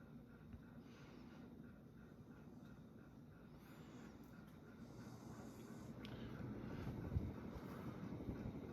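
A Casablanca Four Seasons 38-inch ceiling fan runs at medium-high speed, a faint, steady airy whoosh that swells slightly in the second half.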